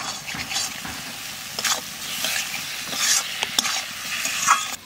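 Spices cooking down with tomato, salt and turmeric in a pan for a duck egg curry: a crackling sizzle broken by repeated scraping stirs and spoon knocks, close and fairly loud.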